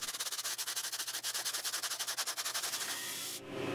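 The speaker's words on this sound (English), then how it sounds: "then I sand the runners smooth using one of the cutouts from before." Wooden runners of a roll-top bandsaw box hand-sanded using a wood offcut, giving rapid, even rasping strokes up close in a steady rhythm that stop abruptly near the end.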